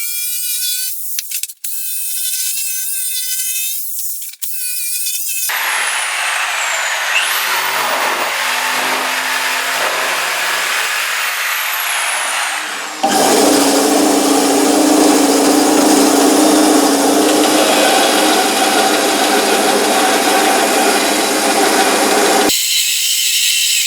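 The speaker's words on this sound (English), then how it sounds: "I'm just going to rough these out with a jigsaw before taking them to the bandsaw to cut them out" A jigsaw roughs out guitar body templates for an SG junior style build, giving a loud, continuous buzzing rasp in long stretches, with a few sharp clicks at the start and a higher whine in the middle.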